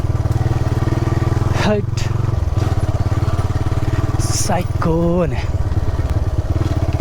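Motorcycle engine running steadily through rough, wet off-road terrain on the way to a hidden waterfall, a continuous close drone with revs rising and falling, with people talking over it.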